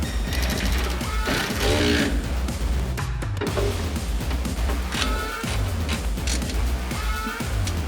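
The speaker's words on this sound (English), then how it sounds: "Now we can go ahead and tighten them down." A ratchet tightens battery bracket bolts on a 1966 Mustang, giving close, rapid clicking runs in several bursts alongside metallic clatter in the engine bay.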